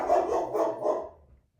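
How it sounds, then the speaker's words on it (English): A dog barks in a home while someone works on quilting, giving a couple of muffled, faint barks from another room before fading to silence. "My dog was barking again"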